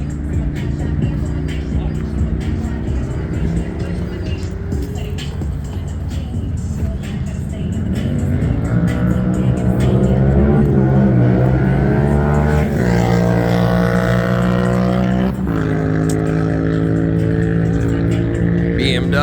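Toyota car engine idling and building revs at a Las Vegas car meet, a loud steady rumble that rises in pitch midway and holds with layered harmonics, crowd and other engines murmuring underneath.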